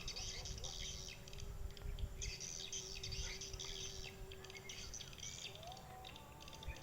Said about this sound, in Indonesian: Wow, burung walit. Terlalu banyak burung walit.